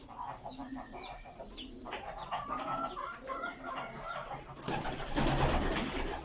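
Young pigeons chirp and squeak in soft, repeated calls at close range, with rustling and a burst of louder noise near the end.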